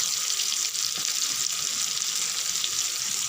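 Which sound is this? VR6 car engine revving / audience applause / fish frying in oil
fish frying in oil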